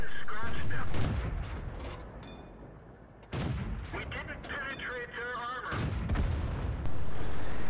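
Pz38nA light tank cannon fire in a World of Tanks battle on Malinovka, sharp booming shots with rumbling explosions and engine noise, loud and close, repeating at irregular intervals.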